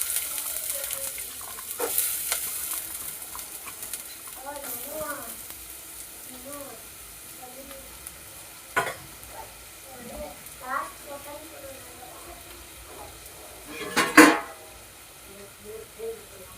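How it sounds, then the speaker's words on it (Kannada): Hot oil sizzles and crackles steadily in a pan while drumstick leaf palya, a Karnataka dish, is stirred and fried, with scraping strokes and occasional clinks. A person talks over it intermittently. "ನೋಡಿ ಇವಾಗ ಎಣ್ಣೆ ಹಾಕೋತಾ ಇದ್ದೀನಿ."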